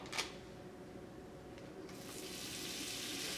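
Butter melts in a pan with leftover bits of shrimp, giving a faint, even hiss that swells slightly toward the end, quiet and close, with no talking.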